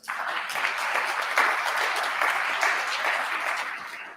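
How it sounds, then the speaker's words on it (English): Steady, full applause from a sizable audience, sustained clapping that holds evenly for several seconds before tapering off. "You can give a round of applause for that."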